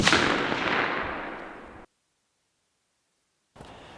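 A single rifle shot at a black bear on a spring hunt on Kuiu Island, fired from a hillcrest at about 180 yards. It cracks loudly and echoes away over about two seconds before a sudden cut to silence.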